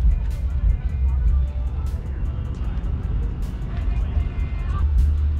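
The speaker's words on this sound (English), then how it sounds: "Got one, two, three, four, five, six, like nine type Rs pulling out." Several Honda Civic Type R cars leave a cars-and-coffee show, their low engine rumble rolling steadily nearby with faint clicks and voices mixed in.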